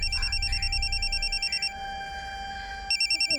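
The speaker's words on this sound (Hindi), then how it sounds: "फोन की आवाज तो अंदर से आ रही है।" A phone rings from behind a closed room door in a crime drama scene, its electronic ringtone repeating in steady bursts, pausing, then resuming, with no talk over it.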